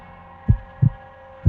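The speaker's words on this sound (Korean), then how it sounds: "남자의 심장 소리가 크게 요동쳤다" Heartbeat sound effect in a Korean thriller audio drama: three deep, thudding beats spaced evenly over a faint steady hum, loud and close with no voices.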